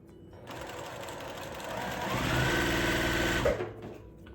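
A sewing machine runs steadily while stitching quilt block patches for a nine patch block, a continuous close mechanical whir that speeds up slightly midway and stops with a small clunk near the end.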